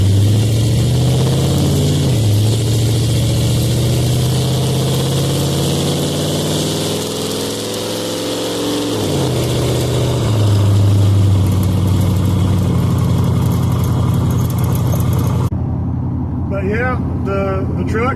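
Truck with an LS 5.3 V8 and Chopacabra cam driving, the engine note rising and falling through gear changes as it accelerates and eases off, loud and close, with someone talking over it.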